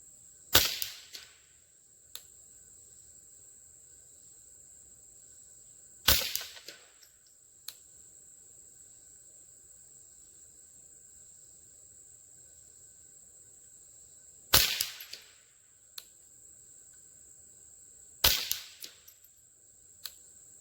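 Four sharp suppressed shots from a Rossi RS22 .22lr rifle with a threaded barrel, spaced irregularly several seconds apart, each a crisp crack with a short ringing tail, fairly near, with quiet outdoor background and no talk between them.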